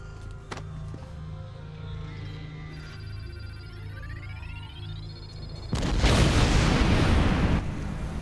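A set charge detonates in a Star Trek video game, a loud broadband blast that bursts in after several seconds of humming tones and rising synth sweeps, then roars on for about two seconds before easing off.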